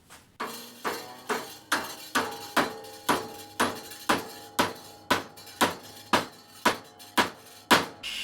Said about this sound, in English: just G-clamp it to your workpiece and whack it over